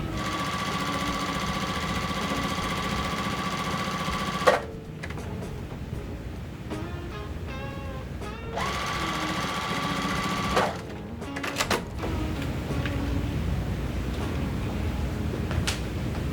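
Home sewing machine stitching quilt block pieces together, a steady close motorized whir running through most of the stretch with a few brief pauses between seams.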